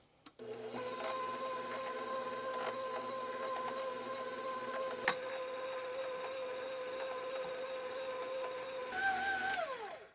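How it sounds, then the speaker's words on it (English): A stand mixer runs steadily, kneading naturally leavened sourdough panettone dough as sugar goes in, giving a constant close mechanical whir with a faint rubbing, a brief knock midway and a slowing change in pitch near the end. "Now with the mixer running, you just add the sugar in a little bit at a time"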